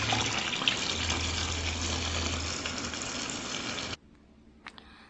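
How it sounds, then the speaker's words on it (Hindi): Water splashes and pours steadily while clothes are washed by hand in a village home. The sound is close and continuous for about four seconds, then cuts to near quiet with a few faint knocks. "अब सबसे लास्ट का काम यही रह गया कि कपड़ों को भी अच्छे से धो लेते हैं।"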